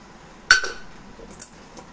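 Beef trotters dropped into a metal pressure cooker make one sharp clanking impact up close, followed by quieter faint knocks and shuffling.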